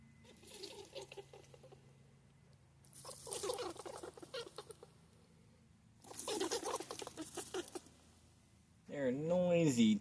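Newborn wild baby rabbits scrabbling in their nest on a farm: bursts of scratchy pattering and rustling in separate spells, with a voice speaking briefly at the end.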